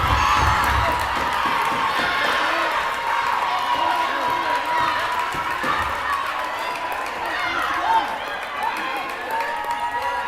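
A packed gym crowd roars and cheers late in a Wilson vs. McKinley varsity boys basketball game. The noise is loud and steady, with an announcer talking over it.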